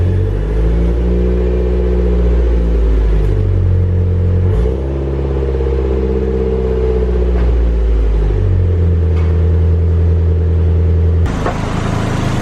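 Nissan Silvia S15 fitted with a new exhaust, revving close by with deep, loud, steady drones that rise and dip over several rev changes, with a brief gap in the middle.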